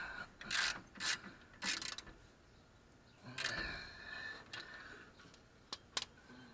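A ratchet clicks in short, close bursts while tightening bolts during a front brake job, with quick pawl rattles separated by brief pauses and a few sharp taps.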